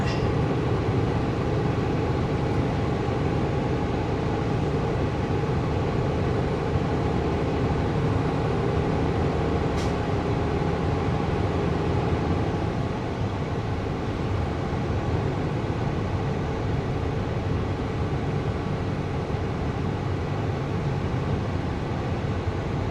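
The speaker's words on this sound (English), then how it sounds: "There's a container train on the other side." A steady, loud rumbling roar of a passing container train, continuous throughout with a broad hiss and low mechanical drone.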